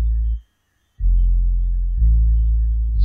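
Deep dancehall synth bass with harmonic distortion, EQ and trimmer plays loud sustained low notes, dropping out briefly near the start before holding steady again.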